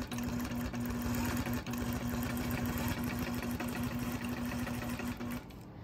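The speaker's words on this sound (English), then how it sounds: "I can still just stitch freehand" A sewing machine stitches freehand across a quilt, a close, steady rapid whirring hum with a constant buzzing tone that runs for several seconds before stopping.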